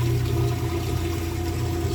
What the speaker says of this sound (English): You can hear it draining the water out.